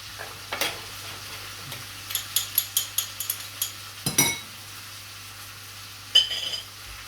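Onions cooking in a pan for an onion tart, a quiet background sizzle under a run of quick clinking stirs from a utensil against the pan, with scattered scrapes and knocks.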